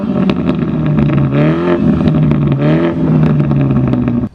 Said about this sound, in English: Acha Yumna, show everyone how loud the car is, okay?